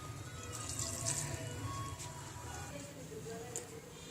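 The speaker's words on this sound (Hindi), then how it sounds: "अब इसके अंदर हम हाफ कप ये बची हुई यखनी थी वो डालेंगे" Leftover broth (yakhni) poured from a cup into spiced savoury vermicelli in a pan, a steady liquid pour and sizzle heard close up for about four seconds with no talking.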